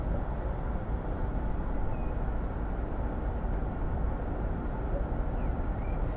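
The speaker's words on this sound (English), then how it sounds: "Most of what you're hearing are cars in Lviv." Cars passing on a live street camera in Lviv, a continuous low rumble of traffic with no distinct individual passes, steady and fairly distant.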